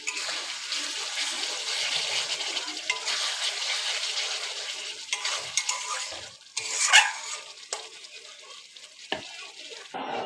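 Fish with a little sour curd and spices frying in a pan, a steady broad sizzle with stirring and scraping, and a brief louder clatter partway through.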